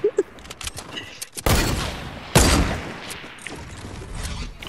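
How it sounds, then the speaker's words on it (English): Sniper fire crackles through a Fortnite shootout, with a couple of sharp shots followed by two loud, rumbling bursts that fade slowly into lingering noise. "This is like sniper shootouts right now."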